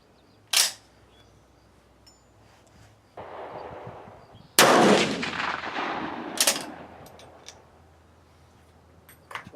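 Rifle shots fired over a chronograph during load development outdoors, a loud sharp report followed by a long rolling echo, with an earlier short crack and a lingering noisy tail.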